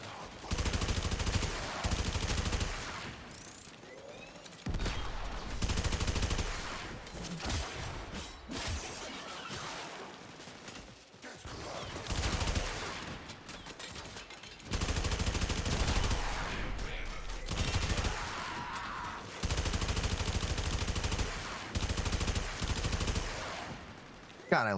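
Bursts of rapid video game gunfire from Warframe, loud and near, repeating in dense volleys with short gaps over roughly twenty-five seconds, with a voice talking at times among the shots.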